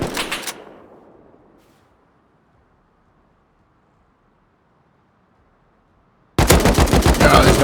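AK rifle gunfire in the survival game Rust, with a short loud burst at the start fading into near silence, then a fast, very loud automatic burst of evenly spaced shots near the end.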